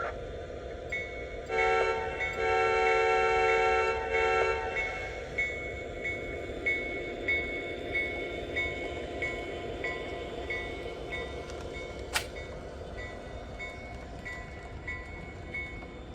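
A Lionel Legacy model train engine rolls out with a steady rumble and rail clatter. Bright horn or whistle tones are strongest early, then repeat as softer rhythmic pulses as it continues, with a sharp click partway through.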